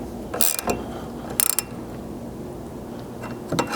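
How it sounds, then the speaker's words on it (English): Ratcheting tool tightening the ditch light mount bolts on a Chevy Colorado or GMC Canyon, short bursts of quick clicks at an irregular pace, close and crisp, with no talk. "before we get in here with any tools to tighten things up"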